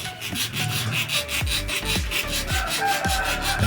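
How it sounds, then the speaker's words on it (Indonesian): Rhythmic rasping strokes of a hacksaw cutting through a metal shaft, about one stroke every half second, close and steady with no talk. "dipotong pakai gergaji besi."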